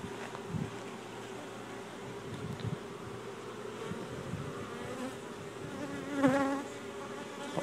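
Honeybees being removed from a porch hum in a continuous, dense buzz, with individual insects flying close past now and then.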